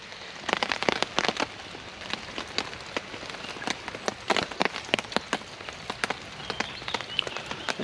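Rain falling on a lightweight bushcraft camp, irregular sharp drips and patters tapping on a nearby surface over a soft steady background, no talking.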